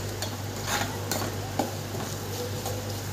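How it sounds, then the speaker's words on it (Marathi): Masala spices fry in hot oil while being stirred, giving a steady close sizzle with brief scrapes of the spoon against the pan. "हा पण मसाला चांगला फ्राय झाला पाहिजे तेलामध्ये."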